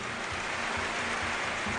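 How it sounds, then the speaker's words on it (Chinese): Sustained crowd applause at an Errenzhuan folk-opera contest, greeting two notaries overseeing the event; a thick, uniform wash of clapping that holds steady from start to finish. "掌声送给两位"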